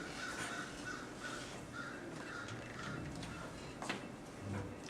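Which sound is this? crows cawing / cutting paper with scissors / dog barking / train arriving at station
crows cawing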